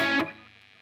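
A distorted electric guitar strikes a brief chord from a song, bright and loud for a moment before dropping quickly into a low ringing decay.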